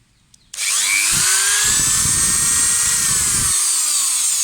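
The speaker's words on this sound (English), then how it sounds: "So we've got this rotary grinder tool with an abrasive bit on the end." A rotary grinder fitted with an abrasive bit, used while cleaning parts of a 2003-8 Honda Accord brake job, starts abruptly and holds a loud high whine with shifting pitch as it grinds against the metal.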